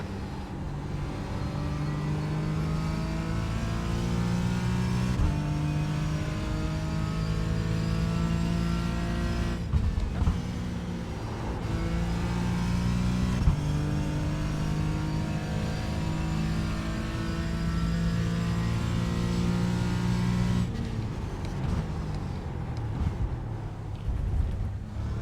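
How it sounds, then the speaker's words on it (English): IndyCar race cars accelerate on a race track, engines screaming through rising gear changes with brief dips between shifts, loud and sustained over the whole stretch, with cars blending and passing. "The next car is Montoya."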